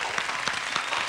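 Studio audience applauding a singing duo on a television talk show, a dense steady patter of many hands clapping at close range with no talk over it.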